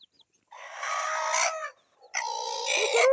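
Chickens cluck and crow loudly and close by while feeding on pawpaw, in two dense bursts separated by a short pause.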